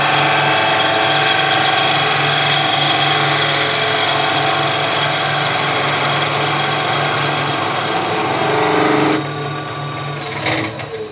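A skew chisel planes a spinning wood workpiece on a lathe, giving a steady, loud whirring hiss with the motor hum beneath, which drops away sharply near the end as the cut stops.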